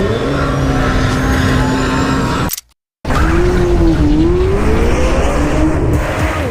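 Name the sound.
high-revving sports car engine at speed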